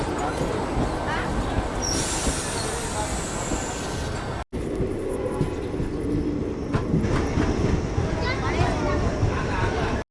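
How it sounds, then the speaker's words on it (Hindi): A Purna–Akola passenger DEMU train pulling into a Maharashtra railway station, a loud rumble of wheels over rails with clicking joints and brief squeals, and someone talking throughout; a short dropout breaks the sound midway. "ये हमारी जो ट्रेन आ रही है ये है पूर्णा जंक्शन और अकोला के बीच चलने वाली पैसेंजर DEMU ट्रेन"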